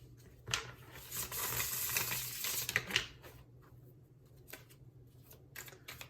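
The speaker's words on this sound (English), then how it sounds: "Draw a few more cards, do a classic shuffle." Tarot cards get a classic shuffle, with a run of quick riffling flutters and soft slaps up close, followed by scattered light card taps and pauses.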